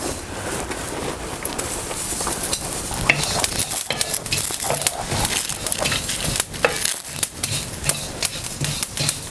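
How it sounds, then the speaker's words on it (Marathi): Sesame seeds, cumin, coconut, ginger, garlic, onion, coriander, cloves and cinnamon roasting dry in a pan for chicken sukka masala, with steady stirring scrapes and crackling sizzle throughout, close and fairly loud. "तिळ जिरं खोबरं आलं लसूण कांदा आणि कोथमीर हे लवंग आणि दालचिन हे आता सगळं म्हणून आपण भाजून घ्यायचं"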